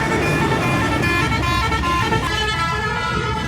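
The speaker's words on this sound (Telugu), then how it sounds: "ఈ లారీలో సౌండ్ అయితే దారుణంగా ఉంది." A loud lorry on a busy coastal Gujarat highway, with a constant heavy engine and road roar and sustained horn blasts layered over the traffic.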